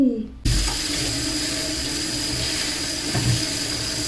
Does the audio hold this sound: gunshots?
no